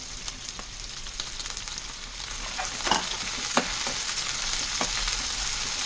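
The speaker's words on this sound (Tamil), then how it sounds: "இப்போ அந்த வெங்காயம் வதங்கிறதோடு நம்ம கத்திரிக்காயையும் சேர்த்து வதக்கிக்கலாம்." Brinjal and onion sauté in a pan for a Tirunelveli-style thokku, a steady close sizzle broken by occasional scraping stirs and light clacks.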